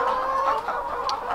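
Hens cluck in a short, busy burst of overlapping calls close by, with no talk over them.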